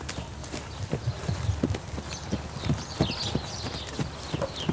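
Horse hooves trot in a Camargue riding arena with a quick, irregular clip-clop rhythm. The footfalls are soft to moderate and sit over a faint, busy outdoor background.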